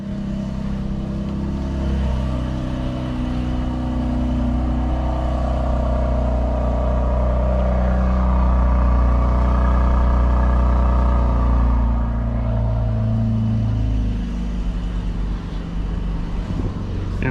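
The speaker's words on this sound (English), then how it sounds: "Here we are in the new 2022 Mercedes AMG GLC 43, so let's start it up." A 2022 Mercedes-AMG GLC 43 engine rumbles steadily at idle after starting, a deep continuous drone close by with a slight swell in the middle, heard alone without talk.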